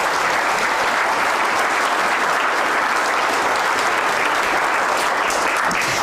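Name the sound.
audience round of applause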